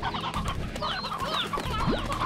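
Roostro chickens in the video game Slime Rancher cluck and chatter in a steady, busy flock, with short bird calls layered over constant ranch ambience and no talking.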